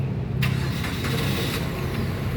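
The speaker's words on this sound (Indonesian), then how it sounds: "Sekarang kita coba nyalakan mobil." A 2014 Suzuki Karimun Wagon R 1.0 GL with manual gearbox starts up: a brief starter crank catches into a steady close idle that runs on alone.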